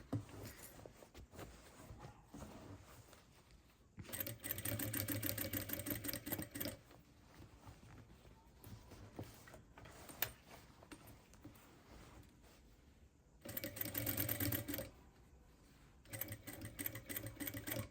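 Sewing machine stitching along a jeans zipper, running in several bursts of steady rapid stitching with quieter pauses between them.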